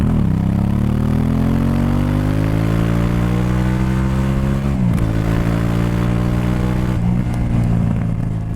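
A 2018 Moto Morini Corsaro ZZ roars loud and close under hard acceleration, its engine note climbing steadily with brief dips at gear changes before pulling up again.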